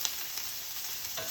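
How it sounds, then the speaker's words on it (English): Chopped onion, green bell pepper and finely chopped sweet potatoes sizzle steadily in a hot pan, a soft, even frying hiss with no talking. "we're gonna let this kind of sizzle for a few minutes"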